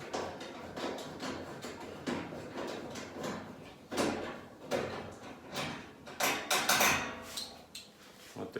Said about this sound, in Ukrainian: Знімаємо кришечку. Вона на защолках тримається, легко знімається.